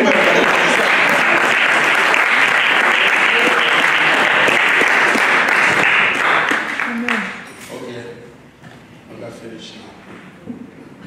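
A church congregation applauds and cheers loudly and steadily for several seconds, then the clapping fades out to scattered claps and murmurs.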